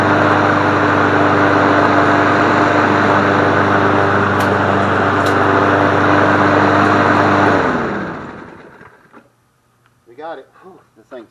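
A Craftsman Platinum self-propelled lawn mower engine runs loud and steady for about eight seconds, then cuts off and winds down, leaving quiet with a few short bursts of talk near the end.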